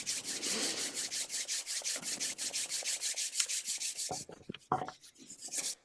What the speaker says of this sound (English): which I just do by rubbing my palms together so they get a little bit warm.